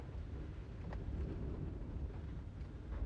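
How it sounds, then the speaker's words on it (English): Steady, blustery wind at a Colorado campsite roars against the microphone, a dense low rumble with gusting swells and no other clear sounds. "Man, it's windy here."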